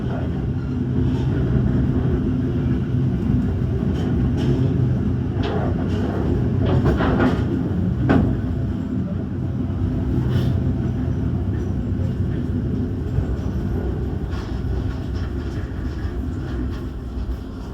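KA Taksaka passenger train on its night run between Jakarta and Yogyakarta, heard from inside as it pulls away: a steady low rumble with faint rhythmic wheel clatter, continuous and moderately loud throughout.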